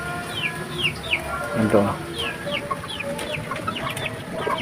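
Hens clucking in a farmyard while being fed, young female chickens giving repeated short calls near and far, with someone speaking briefly over them.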